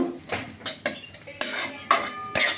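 Roselle fruit chutney is stirred in a pan with a metal spoon, giving a series of irregular scraping clinks and knocks at close range. Mango ginger paste has just been added.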